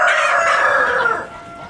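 A small white İspenç rooster crows once up close, loud and drawn out, trailing off near the end.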